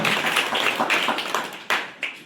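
An audience applauds at a school admission celebration at Pragat Vidyamandir in Ramgad, Sindhudurg, welcoming students who all passed. The clapping is dense and steady, with a few louder claps standing out near the end.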